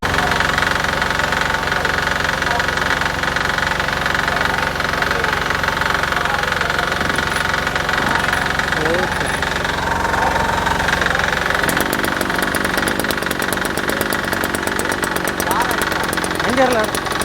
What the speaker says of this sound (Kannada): ಆಯಿಲು ಮತ್ತು ಪೆಟ್ರೋಲ್ ಮಿಕ್ಸ್ ಇಂಜಿನ್ ಇದು 2 ಸ್ಟ್ರೋಕ್ ಇಂಜಿನ್